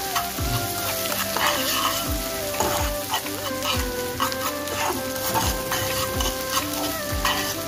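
Onions frying in mustard oil, a steady sizzle with repeated scraping stirs at a regular pace, close and fairly loud, with a faint background tone.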